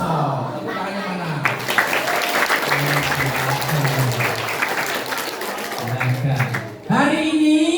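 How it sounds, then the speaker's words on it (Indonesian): An audience at a primary school clapping loudly and steadily while a voice and chanting continue underneath, ending as a speaker starts talking over the last claps. "Tepuk tangannya mana?"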